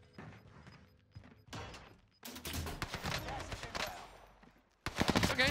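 Gunfire in the video game Warzone, with scattered shots giving way to loud, dense bursts of rapid automatic fire. A final close burst comes after a brief pause, all heard without speech.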